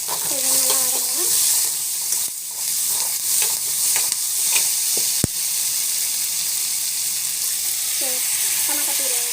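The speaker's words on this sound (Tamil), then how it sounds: "இது நல்லா வதங்கணும்." Tomato and onion masala with rock salt sautés in a pan, giving a loud, even sizzle and hiss with occasional stirring knocks and one sharp clack near the middle.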